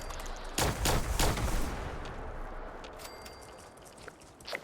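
Gunfire in the game Fallout 76, with a quick burst of three or four sharp, loud shots close together, followed by quieter scattered in-game sounds and a faint pop near the end.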